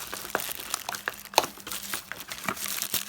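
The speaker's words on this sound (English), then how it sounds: "Does anybody else just rip bags, or is everybody else neat and tidy and uses scissors?" A plastic bag is ripped open by hand, with close, loud crinkling and crackling in irregular bursts and one sharp tearing snap midway.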